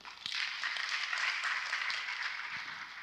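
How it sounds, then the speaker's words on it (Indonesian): A seminar audience breaks into steady, sustained applause, a dense wash of many hands clapping together with no voices over it. "Kita beri tepuk tangan saudara."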